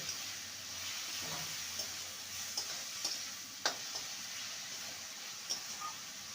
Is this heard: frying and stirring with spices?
yes